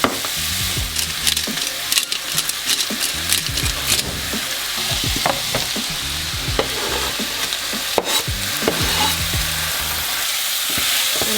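Mushrooms with chopped chili pepper and its seeds sautéing in a pan for Spanish tapas, a loud continuous sizzle broken by frequent spoon scrapes and clacks against the pan, with no talking.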